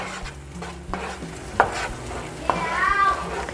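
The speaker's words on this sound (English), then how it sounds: "Gonna mix that up." Food in a frying pan is stirred with a utensil, giving scraping strokes and a couple of sharp knocks over a soft sizzle, heard close up with no talk.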